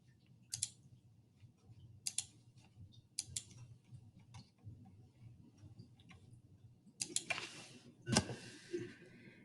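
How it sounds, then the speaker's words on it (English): Typing on a computer keyboard comes through as a few soft, scattered key taps, then a quicker, louder cluster of clicks near the end, all fairly close and quiet with no talking. "And then I type that here."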